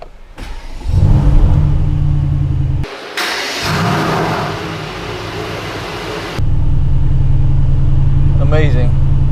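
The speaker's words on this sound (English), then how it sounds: "So I will change the driving characteristics to Sport Plus and let's listen to the sound. I will do the power startup by holding the downshift." A 2020 Mercedes-AMG GT R Pro, China Blue, in Sport Plus mode, fires up with a loud cranking roar, then revs and drops back before settling into a heavy, loud, rumbling idle, with a brief voice at the end.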